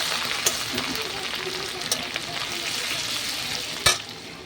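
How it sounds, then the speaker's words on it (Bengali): Dry red chillies, garam masala and grated ginger frying in hot oil, with a dense continuous sizzle, soft scraping stirs and a couple of sharp clinks of a spoon on the pan. "শুকনো লঙ্কাটা বেশি করে দিলাম আমার হাজব্যান্ড একটু বেশি করে খায় আর এখানে রাখা গরম মশলা আর আদা গ্রেট করাটা এনে দিয়ে দিলাম ভালো করে ভেজে নিতে হবে"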